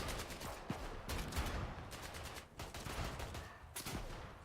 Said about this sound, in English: Oh, they're shooting at someone else.